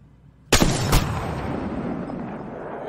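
A single loud gunshot fired at a distant enemy in Apex Legends, a sharp crack followed by a quick second report, then a sustained rumbling echo and ambient game noise.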